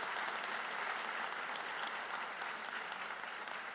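An audience at a school district Teacher of the Year ceremony claps for the three finalists, producing a continuous, even roar of many hands that stays quite faint and distant, with no speech over it.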